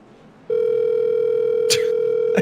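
A steady telephone tone comes on suddenly and holds, loud and close, while a few brief clicks and bumps sound over it.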